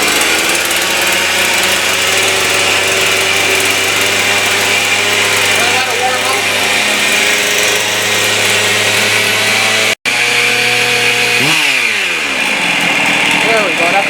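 A Husqvarna 55 chainsaw engine runs at high, steady revs on the throttle lock, loud and close. It cuts out for an instant, then the pitch sweeps down as the engine slows.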